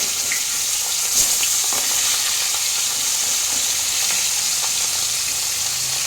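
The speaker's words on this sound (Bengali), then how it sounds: "আমার মাছের এক পিঠটা ভাজা হয়ে গেছে। মাছটাকে এবার আমরা উল্টে দেব।" Fish pieces sizzle in hot oil in a pan after being turned over, giving a continuous close, crackling fry with small pops.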